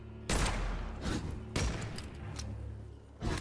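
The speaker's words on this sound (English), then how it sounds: "They're throwing grenades, dude." Grenade blasts and bursts of gunfire from a first-person shooter game, loud and close, with several heavy booms rolling over continuous shooting.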